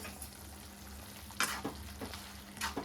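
Mashed potato being stirred into frying potato masala with cumin, giving a soft, steady sizzle with a few short scraping stir strokes, quiet and close, with no voices.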